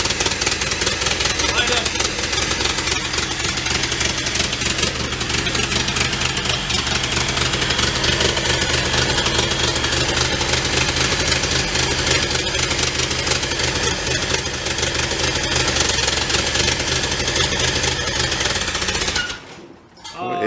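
The engine of a 1948 Willys Jeep, dormant for 35 years, runs loudly and roughly with a rapid knocking, clattering idle close by, cutting off abruptly near the end.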